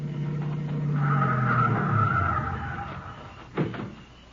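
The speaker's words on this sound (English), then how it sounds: "Here comes a couple of cars." Cars pull in with tires skidding and squealing in a radio drama western, a sustained screech that fades out, followed by a sharp thump like a door shutting.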